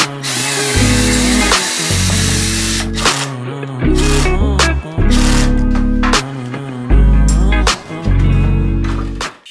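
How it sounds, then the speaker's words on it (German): Power saw cutting in repeated loud bursts during a studio renovation, about six roaring passes of roughly a second each separated by short pauses. "Jetzt müssen wir hier noch ein bisschen sägen."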